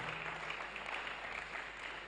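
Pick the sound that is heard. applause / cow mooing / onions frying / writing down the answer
applause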